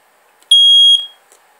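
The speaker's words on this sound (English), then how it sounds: "Hold it in until the alarm sounds." A household smoke detector triggered by its remote test feature gives one loud, piercing electronic beep about half a second long, close to the microphone, then cuts off into near silence.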